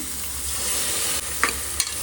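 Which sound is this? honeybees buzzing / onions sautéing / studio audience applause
onions sautéing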